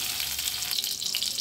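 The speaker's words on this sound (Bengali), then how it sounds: "তো আমাদের পটলগুলো ভাজা হয়ে গেছে, আমরা সব পটলগুলো এখন তুলে নেব।" Pointed gourd (potol) slices frying in hot oil in a home kitchen, a steady close sizzle with crackling bursts, continuous throughout with no talking.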